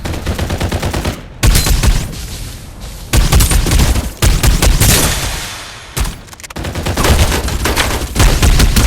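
Rapid bursts of gunfire in the battle game Farlight 84 ring out loud and close. Dense volleys are broken by a few short gaps and run almost continuously.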